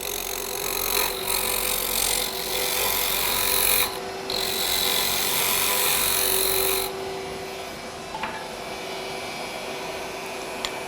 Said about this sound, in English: Again, we're going to true it up. The spindle roughing gouge.